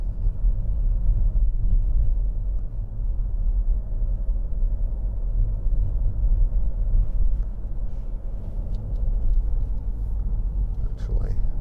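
A 2012 Jaguar XF 2.2 TD Premium Luxury diesel saloon drives on the road, a steady low engine and road rumble heard from inside the cabin, continuous and even, with someone speaking over it.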